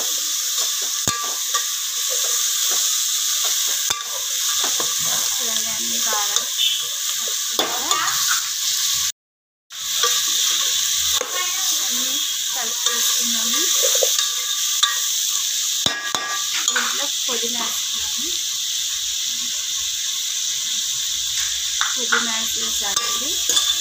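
Potatoes and tomato frying in a pan for methi veg pulao, stirred with steady loud sizzling and scraping throughout, broken by a brief silent gap midway.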